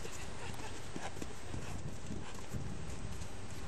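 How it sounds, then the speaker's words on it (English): A young horse crow-hops and runs, its hooves clip-clopping irregularly beneath a constant, heavy rushing noise that fills the whole recording. "my calm, easygoing horse is now crow-hopping and running"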